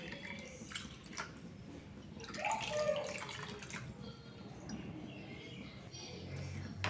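Water keeps running into a pot of rice for jeera rice, nine cups added to three cups of grain, a soft, steady close trickle and splash that swells briefly midway.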